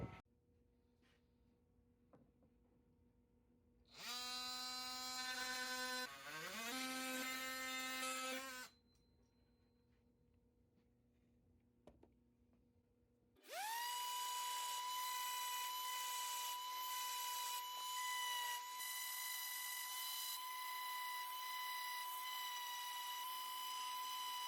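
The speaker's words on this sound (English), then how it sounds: "I'm going to cut them off and sand this frame up." A power tool cuts and sands a wooden picture frame in two loud bursts of steady whining with a pitch sag midway, separated by quiet pauses and a few faint knocks.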